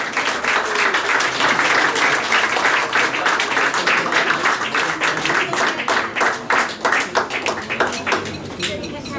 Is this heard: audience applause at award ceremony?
yes